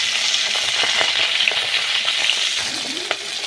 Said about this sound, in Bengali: আর ওইদিকে পাঙস ট্যাংরা মাছের মাথাগুলো ভেজে নিচ্ছি।